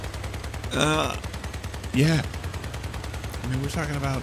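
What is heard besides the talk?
Reaper weapon firing in the video game Crossout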